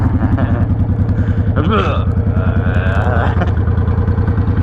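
A Tao Gemini motorcycle engine runs close and loud with a steady, rapid chugging pulse as gears are shifted and the revs rise and fall, while people talk over it.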